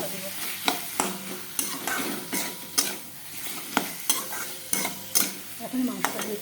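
Potatoes and papaya fry in a pan with a continuous sizzle, while a utensil scrapes and stirs in a regular rhythm, about two strokes per second.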